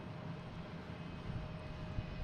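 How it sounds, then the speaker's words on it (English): A Cessna Citation Latitude business jet near Boston Logan airport produces a steady, fairly faint engine roar that holds evenly throughout, distant, with no talking. "And we have an exec jet, NetJets, heading to Nantucket. Cessna citation, latitude."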